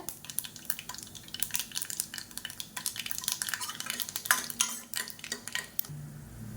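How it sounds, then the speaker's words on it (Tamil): Urad dal and dried red chillies frying in hot oil in a pan for an immunity rasam, with steady sizzling and crackling plus frequent clinks and scrapes of a spoon stirring against the pot, no talking. "இது எல்லாமே நல்லா பொரியட்டும்."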